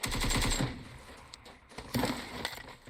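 Rapid automatic gunfire from PUBG Mobile rattles loudly through the first half second, then softer scattered shots and clatter follow, with another burst of fire near the end.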